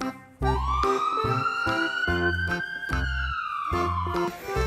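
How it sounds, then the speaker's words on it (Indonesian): A toy ambulance siren wails loudly in a rising and falling electronic tone, accompanied by a repeating beeping tune, with no talking. "Mobil ambulan."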